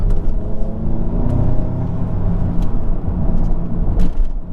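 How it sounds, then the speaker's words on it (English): Audi S3 engine rumbling inside the cabin as it downshifts and holds revs with the exhaust valves open, a steady low drone with a few sharper pops and rises in intensity. "As soon as I switch to dynamic, it'll downshift for me, and then it'll hold the RPMs, and exhaust valves, they open up."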